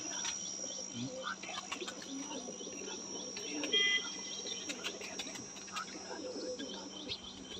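Pigeons cooing softly at a breeder's loft, with a continuous bed of chirping birds and insects around them and a brief human voice in the middle.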